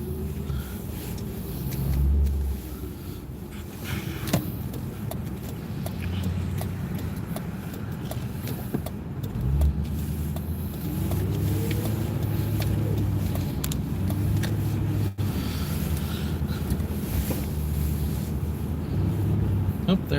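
A car driving on a road with a steady low engine and tyre rumble throughout, heard from inside the cabin, with a person talking at times over the drone.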